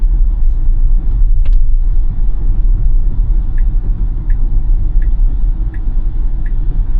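Inside a Tesla driving on FSD v13.2.8 through Staten Island traffic, low road and tire rumble runs steadily throughout, with a few faint regular ticks like a turn signal near the end.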